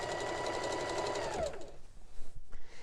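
A sewing machine stitching a Christmas table runner with muslin underneath runs in a steady close whir for about a second and a half, then stops, leaving quiet handling noises.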